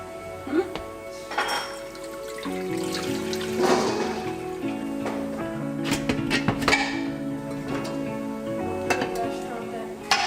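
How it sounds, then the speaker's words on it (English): Water runs steadily into a metal pot with clinks and clatter of cookware, the pitch of the filling shifting as it rises; no speech. "Time to fill this up with water."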